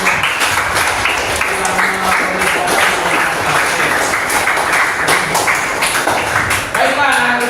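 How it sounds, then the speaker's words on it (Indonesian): A classroom of children claps for their classmates in steady, dense applause that holds at close range for the whole stretch, with faint voices underneath. "Tepuk tangan untuk teman kalian"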